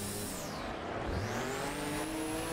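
A car engine in the racing game Assetto Corsa revs high and steady during drifting, its whining tone briefly dipping in pitch and then climbing again. There is no talk over it.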